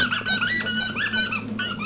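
A dog's squeaky toy squeaks loudly and rapidly up close, a burst of repeated high rubbery squeals with no voices.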